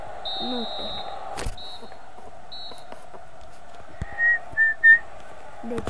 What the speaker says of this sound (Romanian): Fluieră arbitru.